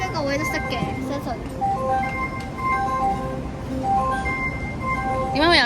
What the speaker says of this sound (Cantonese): 呢個音樂咧係高鐵嘅出站音樂